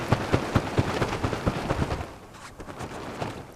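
A quick series of rapid flapping bursts as a wet tent is shaken hard to shed water, then it settles into quieter rustling.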